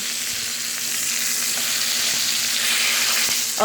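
Fatty bone-in pork chops fry in a pan with a loud, steady, close sizzle that holds throughout, and a brief clink comes right at the end.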